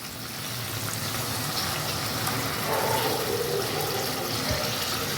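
Water pours into a pan of potol kasundi, a steady rushing splash with hissing sizzle, continuous and fairly loud throughout.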